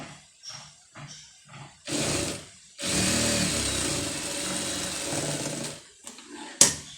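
Electric sewing machine running in bursts while stitching an embroidered sleeve, with a short quiet start, then two sustained whirring runs, the longer one lasting about three seconds, and a sharp click near the end.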